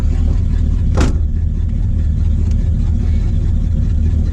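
An abandoned 1969 Dodge Dart's carbureted engine rumbles loudly up close at a steady idle, with a brief sharp blip near the start as the gas pedal is touched.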